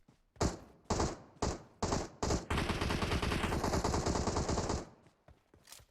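Gunfire in the PUBG Mobile battle royale game: several short separated bursts of shots, then a sustained loud automatic volley lasting about two seconds, followed by fainter scattered shots.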